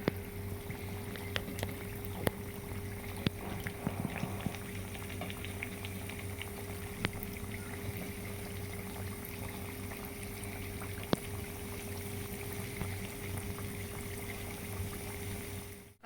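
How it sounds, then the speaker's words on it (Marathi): Donuts fry gently in oil over a low gas flame, a steady soft bubbling hiss that runs on evenly, broken by a few faint clicks. "राहिलेले डोनट सुद्धा अशाच पद्धतीने हळुवारपणे टाकून घेऊया मंद गॅसवर."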